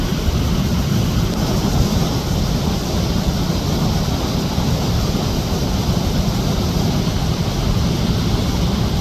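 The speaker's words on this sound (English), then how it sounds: "The waterfall!" Constant broadband rushing of a waterfall at a lagoon park, a dense steady roar with no breaks and no voices.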